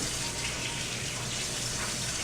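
Hot water running from a kitchen tap while baking bread, a steady broadband gush at close range, moderately quiet and continuous, with no talking.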